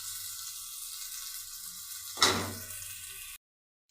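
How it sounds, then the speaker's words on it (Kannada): Green chilies, curry leaves and chopped onion hit hot oil, bursting into a loud sizzle at once, then easing off over about a second before the sound cuts out; no voices. "ಮೆಣಸಿನ್ಕಾಯಿ, ಕರಿಬೇವು ಸೊಪ್ಪು, ಒಂದು ದೊಡ್ಡದಾಗಿ ಹೆಚ್ಚಿರೋ ಈರುಳ್ಳಿ ಹಾಕ್ತಿದ್ದೀನಿ. ಎಲ್ಲ ಚೆನ್ನಾಗಿ ಫ್ರೈ ಮಾಡ್ಕೊತಿದ್ದೀನಿ."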